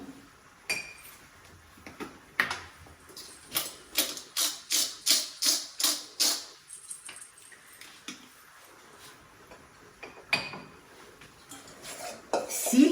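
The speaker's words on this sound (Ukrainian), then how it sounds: "Перемішуємо, щоб поєднався соус з медом." Funchoza glass noodle salad with chicken being stirred with soy sauce and honey in a dish, giving a run of rhythmic utensil clinks and scrapes against the bowl that come close and moderately loud in a steady series, with no talking.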